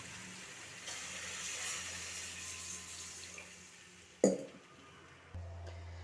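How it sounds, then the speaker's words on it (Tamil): Water runs and splashes steadily into a cooking pot, fairly quiet, ending with a sharp clatter and then a low hum. "இப்போ தண்ணி ஊற்றிக்கிறோம்."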